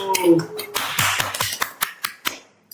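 A burst of clapping from a small group, sharp claps rising then thinning into a few scattered ones before fading out.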